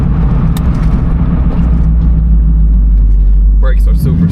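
A 1965 Ford Mustang engine rumbles steadily while driving, a low, loud drone close by, with some brief mechanical rattles toward the end.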